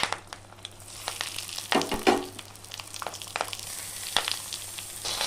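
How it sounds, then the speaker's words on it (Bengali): Prawn paturi wrapped in banana leaf frying in hot oil in a kadai on a gas stove, giving a steady close sizzle with scattered crackles and pops, alone without talk. "এই পাতুরিগুলোকে আমি এবার উল্টে পাল্টে ভেজে নেব"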